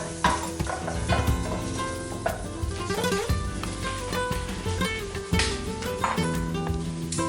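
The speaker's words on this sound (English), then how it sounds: "So I'm just going to add some green scallion to the pot. Saute those up." Green scallions sautéing in a pot for Mexican fiesta food give a loud, continuous sizzle with scattered stirring scrapes, over a steady tonal background.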